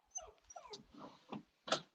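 A dog at home lets out a string of soft yips and whimpers followed by a sharper bark at the end, close by and alone with no talk over it.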